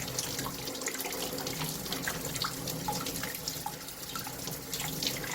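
A kitchen tap runs steadily to rinse the blood from a freshly caught rockfish, a close, continuous splashing rush with no voices.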